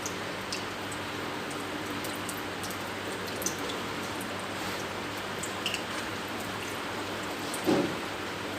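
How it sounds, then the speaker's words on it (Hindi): Onion tikiya patties sizzling in hot ghee over a medium flame, a steady close crackling fry with scattered small pops throughout. "ये घी हमारा गर्म हो चुका है। अब हम इसके अंदर टिकिया शामिल करने जा रहे हैं।"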